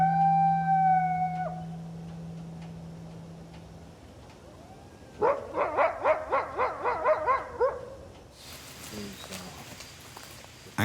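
Coyotes howling around a once-polluted lake, a rising chorus of wavering howls and yips that comes in after a sustained tone and speech, followed by a noisy hiss.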